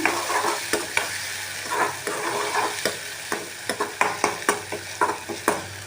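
Tomatoes fry in biryani masala for a chicken dum biryani, a steady sizzle broken by a quick series of sharp spoon scrapes and clacks against the pan as the mixture is stirred.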